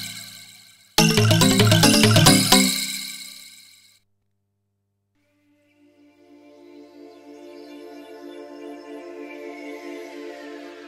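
The Spunglass factory preset on a Roland JD800 synthesizer opens with a bright, glassy chord stab that cuts off, then a shimmering pad swells slowly out of silence and rings on, sparkling and full.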